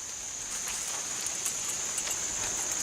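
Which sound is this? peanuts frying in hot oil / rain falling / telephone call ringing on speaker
rain falling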